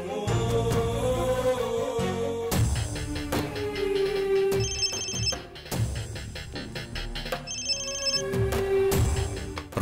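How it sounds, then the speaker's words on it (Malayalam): A mobile phone rings with a loud musical ringtone, repeating melodic phrases with bright chiming tones that continue steadily and close by, with no talking. "പ്രകാശന്റെ ഫോണാ."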